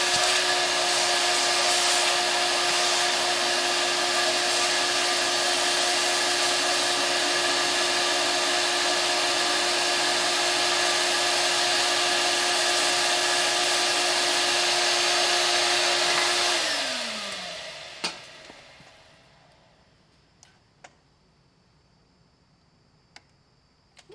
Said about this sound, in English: This Delrin is super messy. Sorry, more vacuuming.